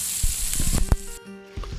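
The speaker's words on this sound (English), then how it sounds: "That's when you hear the sizzle, and that's when you know things are going to go right." Chicken sizzles skin side down in an oiled, preheated pan, giving a bright hiss broken by sharp pops and crackles that fade into a softer, quieter sizzle.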